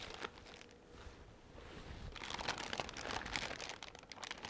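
A plastic bag for making sauerkraut crinkles and rustles quietly up close, with softer handling at first and then busier crackling toward the end.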